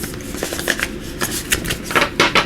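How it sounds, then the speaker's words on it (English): Close, crisp riffling and flapping of tarot cards being shuffled in quick bursts, no talking. "let's give this just one little more shuffle here"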